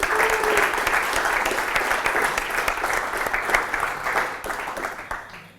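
An audience at a tech conference talk applauds a participant: a steady wash of many hands clapping, moderately loud and sustained throughout, tapering off at the close.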